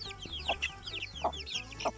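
Several chickens cluck in short bursts, with chirpy high calls overlapping and a low steady hum underneath.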